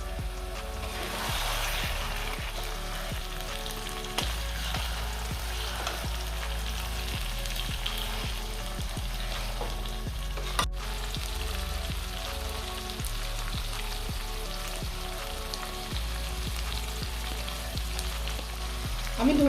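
Chicken pieces fry in coriander masala, a steady loud sizzle with occasional stirring scrapes running throughout without pause.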